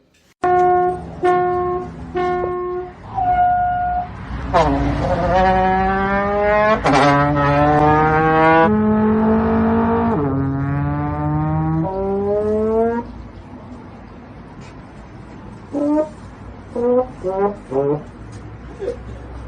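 A voice imitates a race car for many seconds, with rising engine whines and revving swoops, loud and close, ending in short choppy bursts.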